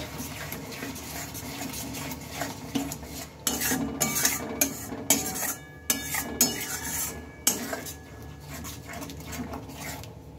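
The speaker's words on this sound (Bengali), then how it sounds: "এটা আমি আবারও কিছুক্ষণ কষিয়ে নিচ্ছি" A spoon scrapes and clatters in a pan as rohu fish curry masala with ground coriander paste is sautéed and stirred, giving irregular metallic knocks and scrapes close by. A dog whimpers and pants faintly in the background.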